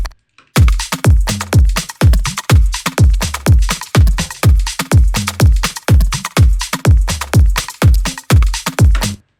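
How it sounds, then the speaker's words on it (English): House music drum and percussion mix with punchy kicks on a steady four-on-the-floor pulse, layered with crisp hats and percussion, loud and continuous, no voices. "So all the drums will be sound like this."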